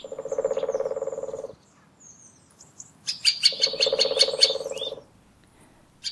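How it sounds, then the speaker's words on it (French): A male middle spotted woodpecker in a park gives strange calls in a series, excited by a great spotted woodpecker's drumming. Two sustained nasal bursts stand out, with sharp high chirps between them. "des cris étranges retentissent en série. C'est un mâle de pic-mare excité par le tambourinage de l'épêche."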